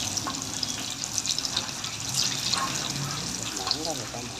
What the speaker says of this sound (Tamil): பொன்னிறமாக வர வரைக்கும் வெங்காயத்தை வதக்கிக்கோங்க.